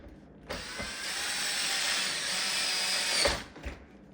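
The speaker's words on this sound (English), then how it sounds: "using a drill, whatever." A power drill drives a screw back into a Shark DuoClean soft brush roller, one loud continuous whir that starts abruptly, holds for about three seconds and stops, followed by a brief click.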